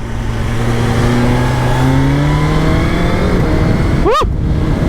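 A BMW S 1000 XR motorcycle in dynamic mode accelerates hard, its engine note climbing steadily through the gears with quick-shifter changes, then rising again before a brief whooshing pass near the end; loud and continuous, with no talk.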